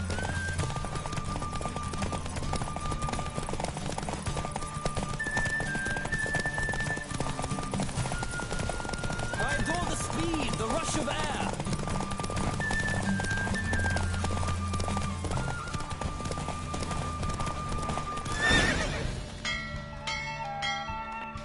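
Horse hoofbeats clip-clop steadily through a busy soundtrack with music in The Witcher 3: The Wild Hunt, and a brief loud whinny rises near the end.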